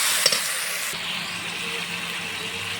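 A pan of spices with ground garlic, ginger, turmeric, salt and spice powder sizzles hot as it is stirred for a jackfruit and prawn curry, a steady loud frying hiss with a brief scrape near the start.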